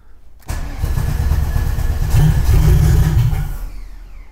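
A Golf engine running an EMU Black engine control unit cranks and catches, then runs at a loud, rough idle with a brief rev before settling and cutting off.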